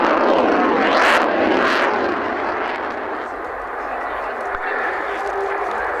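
Vintage aircraft flying at an air show, a loud broad roar with two sharp passing swells early on, then a steadier, softer engine drone.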